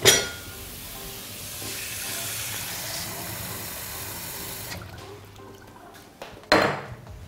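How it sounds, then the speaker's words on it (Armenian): Beef meatballs fry in oil in a pan for Shirak-style pkhlenki, a steady broad sizzle running for several seconds, then dropping away, followed by a sharp clink of cookware near the end. "տապակելու ենք իհարկե յուղով"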